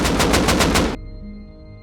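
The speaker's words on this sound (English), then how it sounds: "Shot in the back by an AK." Rapid automatic AK rifle fire in the survival game Rust, a loud close burst of about six quick rhythmic shots lasting roughly a second, then cutting off to a quiet low hum.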